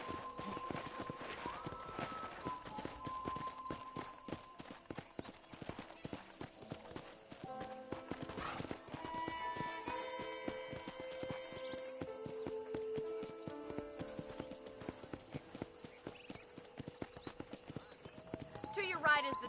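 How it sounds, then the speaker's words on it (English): Horse hooves clip-clop in a quick steady rhythm as a horse is ridden around a ranch in Red Dead Redemption, with an occasional whinny, game music and someone talking over it. "let's see if you can still ride a horse"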